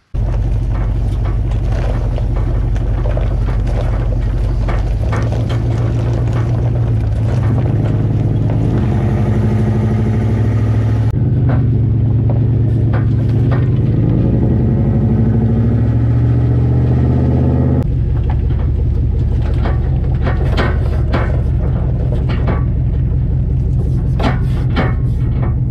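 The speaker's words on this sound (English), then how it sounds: "now we got to do a road test." A 2003 Dodge Ram 1500 pickup fitted with new air bag suspension, heard from inside on a road test, its engine droning loudly and shifting pitch as it accelerates and changes gears, with a steady rumble throughout.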